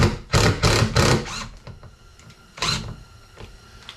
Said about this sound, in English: What I'm going to do is I'm going to put this temp screw in right here to hang it up from.